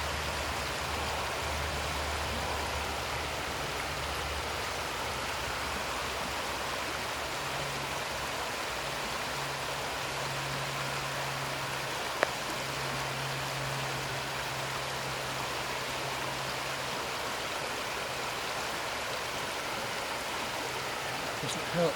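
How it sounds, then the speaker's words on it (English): Heavy rain falling outdoors in very wet weather in Scotland, a dense steady hiss that holds at the same loudness throughout, with one brief tap near the middle and no clear talking. "The rain is coming down now quite strongly on me."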